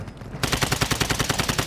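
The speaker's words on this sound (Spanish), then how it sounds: "¿Ese disparo ha sido tuyo?" Rapid automatic gunfire in Warzone 2, a loud, close burst of evenly spaced shots firing in quick rhythm for over a second after a brief quieter lead-in.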